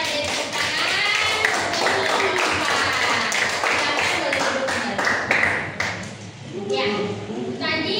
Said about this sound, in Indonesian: Baik, kita beri tepuk tangan.